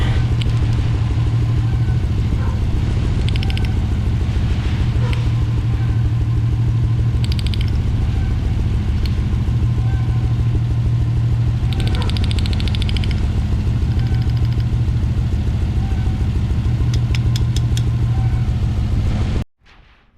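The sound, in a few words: 1995 Ford Explorer engine running after spark plug cleaning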